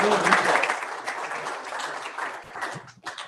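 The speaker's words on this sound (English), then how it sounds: "Let's all give a big round of applause" Audience applause at a dinner event in Asheville, a dense burst of many hands clapping that holds steady, then thins and trails off near the end, with a few voices mixed in.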